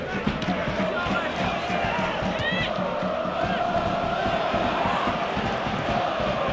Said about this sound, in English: Really good crowd here, good atmosphere as well.